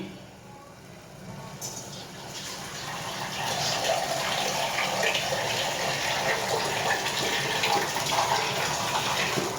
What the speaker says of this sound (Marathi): आणि आता आपण टाकूया पाणी.